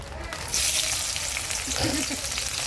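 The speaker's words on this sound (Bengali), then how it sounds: "এবার এর মধ্যে পেঁয়াজ আর লঙ্কাগুলো কেটে রেখেছি যে সেগুলো দিয়ে দেবো ভাজা করে নেওয়ার জন্য।" Sliced onions and green chillies frying in hot oil in a wok, a dense, loud sizzle that jumps up after a quieter start and then holds steadily, close by, with no speech.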